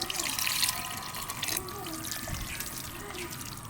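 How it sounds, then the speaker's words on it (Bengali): Water poured into a cooking pot of onions, a steady close splashing pour that is strongest at first and then settles into softer trickling. "এই জল দিয়ে দিলাম পেঁয়াজটার মধ্যে"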